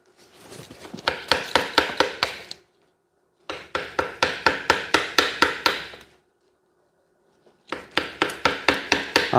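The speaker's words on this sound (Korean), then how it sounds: "이런 데는 망치와 끌을 이용해서 하면은 좀 더 쉬워요." Hammer striking a chisel while working a camellia bonsai, in three bursts of rapid, evenly spaced sharp taps, loud and close, separated by short pauses.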